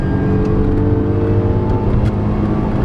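A 2020 Tata Tiago petrol engine revs hard in third gear toward its 6000 RPM limit, a loud continuous in-cabin drone and whir with no talking.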